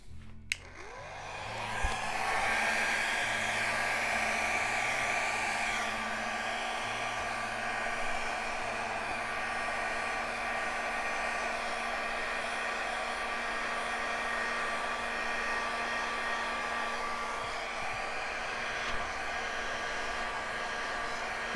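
A hair dryer blows wet paint across a painting surface, giving a steady, close, fairly loud whooshing whir that runs unbroken for over twenty seconds after a brief click as it starts.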